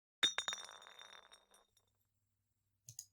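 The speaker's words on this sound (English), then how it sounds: "something fell out of his pocket with a soft clink" In the video game Virtue's Last Reward, a small object drops with a bright glassy clink, then a few quick bounces and a ringing tail that fade within about a second, followed after a silence by two faint clicks.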